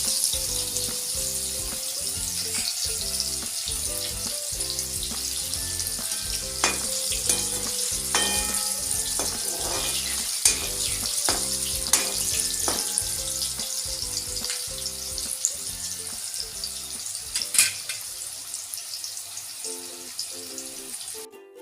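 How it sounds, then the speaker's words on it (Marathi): Pieces of kokum (amsul) fry in hot oil until crisp while making bhajke pohe chiwda, a Diwali snack. A steady, loud sizzle runs throughout with stirring scrapes and clinks, and no talking. "आमसूल सुद्धा व्यवस्थित कडकपणा येईपर्यंत तळून घ्यायचा आहे"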